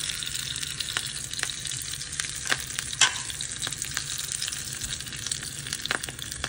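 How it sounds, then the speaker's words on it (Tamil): Black pepper and curry leaves fry in a pan for Chettinad millet venpongal, a continuous close sizzle with several scraping stirs of a spoon and one louder knock midway. "இதெல்லாம் போட்டு நல்லா இது வாசம் வர வரைக்கும் ஒரு கிண்டிட்டு"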